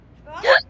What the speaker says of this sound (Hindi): देखो तो कितनी जानलेवा हिचकी आई है।